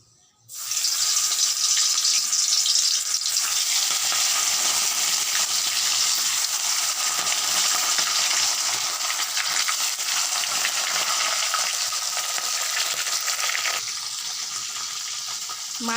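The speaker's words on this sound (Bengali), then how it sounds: "মাছগুলো ভাজা হচ্ছে" Fresh bata fish, rubbed with turmeric and salt, fries in a pan with a loud, steady broadband sizzle that holds nearly unchanged throughout, easing slightly near the end.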